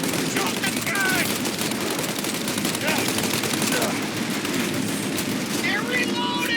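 Enemy machine gun fire in the video game Mafia Definitive Edition rattles in dense, continuous bursts, loud and close, with voices shouting over the barrage.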